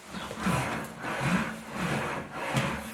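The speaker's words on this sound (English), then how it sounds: "hear the pressure I have on there with the wheels kind of making the right kind of sound" English wheel rolling sheet metal under steady pressure, a continuous rubbing, rasping roll that swells and eases in repeated passes back and forth, close and moderately loud with no talk.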